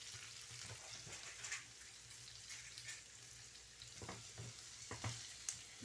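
Okra (bhindi) sautéing in a pan, a steady low sizzle with occasional stirring scrapes and soft clinks, continuous and moderately quiet throughout, no talking.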